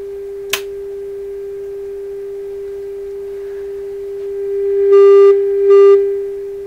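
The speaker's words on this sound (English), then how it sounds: "But this is a much nicer sine wave here." A steady pure sine tone from a PYE 39HC shortwave receiver hums throughout, with a sharp click near the start and two louder, buzzier bursts of feedback tone toward the end.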